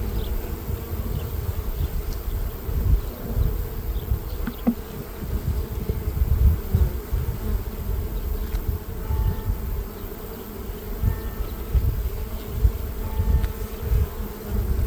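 Honeybees buzz steadily and densely around plastic hive frames, a close, continuous droning swarm sound lasting the whole stretch with no talking.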